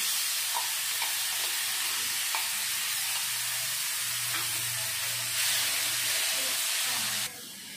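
Ground onion paste added to hot oil with cumin seeds in a pan for a koi fish curry, a loud, constant close-up sizzle and hiss with occasional stirring scrapes.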